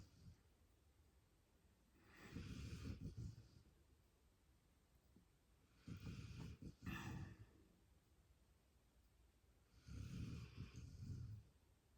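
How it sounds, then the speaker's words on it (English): Two people snoring in the background, three slow, heavy rasping breaths spaced a few seconds apart, faint and distant in an otherwise quiet room. "with those two snoring in the background"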